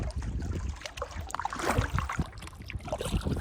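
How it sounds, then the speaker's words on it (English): A canoe paddle dips and strokes through the water of a reservoir, making soft, irregular splashes and gurgles close by against a quiet outdoor background. "I'm just paddling around"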